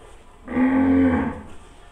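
A single deep moo from Sahiwal or Rathi cattle at a dairy farm holding week-old calves, close and loud, lasting under a second with no other sound around it.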